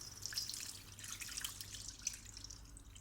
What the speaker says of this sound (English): I'm just going to pour some more water on there again